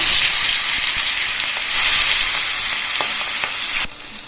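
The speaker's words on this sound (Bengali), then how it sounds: "তেলটা ভালো মতো গরম হয়ে গেছে এবার কয়েকটা মাছের পিস আমি একসঙ্গে দিচ্ছি" Pieces of boal fish fry in hot oil in a wok, giving a loud, continuous, close sizzle with faint stirring taps, which drops off sharply near the end, with no talk.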